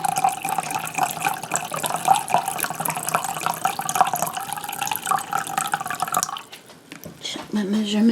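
Vinegar pours in a steady splashing stream into a measuring cup, running for several seconds before stopping abruptly. Speech is heard briefly near the end.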